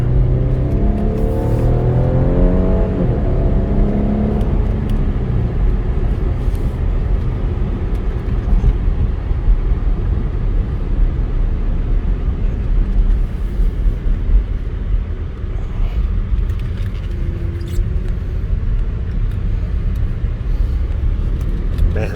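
A 2018 Porsche Cayenne Platinum Edition with a V6 cruises along, its engine and road noise forming a steady, loud low rumble inside the cabin, with a brief rise in engine pitch near the start.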